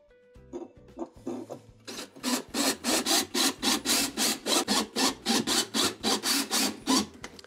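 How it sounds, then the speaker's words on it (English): A hand screwdriver drives Phillips screws into the basket hub of a Whirlpool washer. A rhythmic series of about seventeen even, rasping strokes sounds close and moderately loud, with no voices. "as I insert the screws here, the 6 Phillips style screws, it'll start lifting up the tub"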